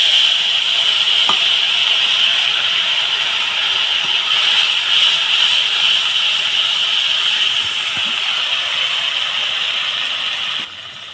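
Ground spice paste sizzling in a hot pan while cooking a paneer dish, a loud steady hiss that stays close and continuous, easing off at the very end, with a few faint clicks and no talk.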